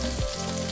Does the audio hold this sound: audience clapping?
no